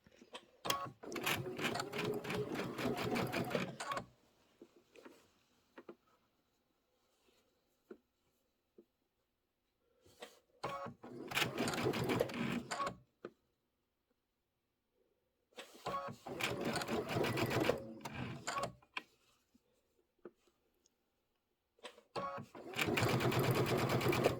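Sewing machine with an open toe foot running in several bursts of rapid stitching, each a few seconds long, separated by quiet pauses with faint handling noises.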